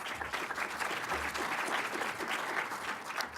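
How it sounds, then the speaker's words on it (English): An audience applauds panel members at a cancer forum Q&A panel discussion, continuous steady clapping from a sizable crowd throughout, fairly even in loudness. "Give them all a big round of applause"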